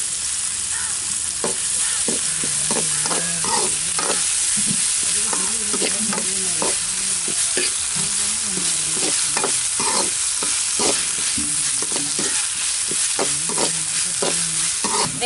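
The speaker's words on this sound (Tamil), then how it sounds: "வெங்காயம் தக்காளியோட இஞ்சி பூண்டு பேஸ்டையும் சேர்த்து வதக்கலாம்." Onion, tomato and ginger-garlic paste sauté in a pan for a mutton intestine curry, with a steady sizzle under repeated scraping stirs of a spoon throughout, close and fairly loud, no voices.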